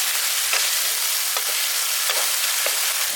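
Chopped coriander being stirred into a prawn masala in a pan for a village-style prawn biryani, a steady loud sizzle with a few soft scraping strokes of the spoon, no talking.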